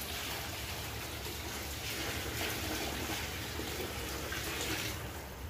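Liquid tipped back into a beer brewing pot during the mash, a steady, quiet splashing and pouring rush that stays even throughout, with no talking.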